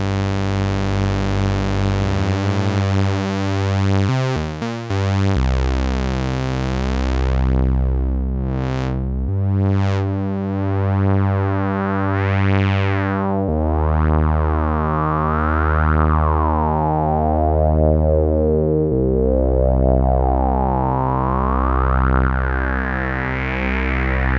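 Sustained buzzy sawtooth tones from a Behringer 2-XM synthesizer, harmonically rich and steady, shifting pitch in stepped changes with slow sweeping filter movement, loud and alone.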